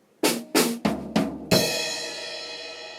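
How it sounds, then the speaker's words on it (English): Drum fill: two sharp snare hits, then two deeper floor tom hits, ending on a crash cymbal that rings out and slowly decays. "all it is just 2 notes on the snare drum, 2 notes on my floor tom."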